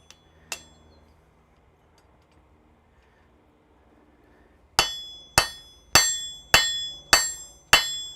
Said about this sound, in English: Still plenty hot enough to actually forge, but too cold to be forge welding.